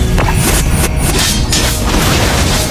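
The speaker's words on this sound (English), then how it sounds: "You destroyed a turret!" A turret being destroyed in Mobile Legends: a loud, close crash of booms and heavy impacts with whooshing debris, sustained and dense for a few seconds.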